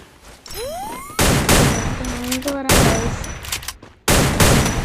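Loud bursts of rapid gunfire from an online shooting video game, arriving in three long volleys separated by short gaps, with rising and falling electronic game tones and effects in between.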